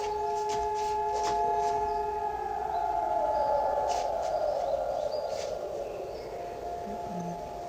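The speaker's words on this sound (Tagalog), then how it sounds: "may national siren tunog sa buong bansa na nagpapatigil ng trapiko, trabaho at pang-araw-araw na gawain ng mga tao" A national memorial siren sounds across Israel on Holocaust Remembrance Day, a sustained, loud wailing tone holding steady and then rising and broadening, heard at a distance outdoors, with a few faint background noises alongside.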